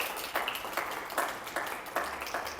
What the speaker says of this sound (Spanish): le pedimos un aplauso al doctor Sergio Nicolás Gutiérrez